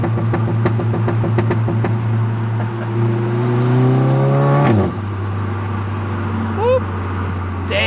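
An Audi B9.5 S4 engine accelerates hard with the window open, its note climbing steadily for several seconds before a sharp drop on a gear change, then carrying on at a lower pitch, loud and close, with voices over it.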